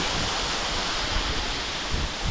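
A waterfall on the Appalachian Trail, heard up close as a loud, steady broadband rush of falling and splashing water with no voices.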